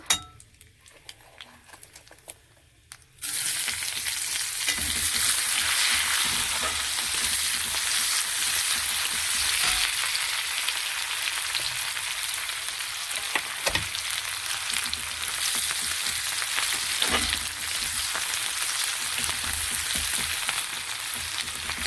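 Sliced onions frying gently in a little oil in a pan, a steady close sizzle that starts abruptly after a brief quiet moment and carries on evenly with occasional soft clinks.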